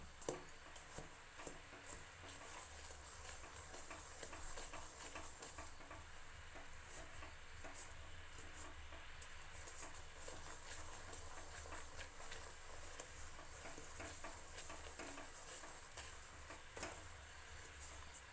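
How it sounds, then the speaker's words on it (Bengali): A spoon stirs melted jaggery in a pan, scraping and faint sizzling in a steady, quiet loop that continues alone for a long stretch. "পাটালি বানানোর জন্য এভাবে বেশ কিছুক্ষণ নাড়তে হবে"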